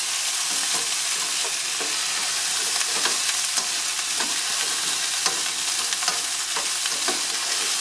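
Red and orange bell pepper sizzles steadily in a pan, a close, even frying hiss with light stirring clicks throughout, no voices.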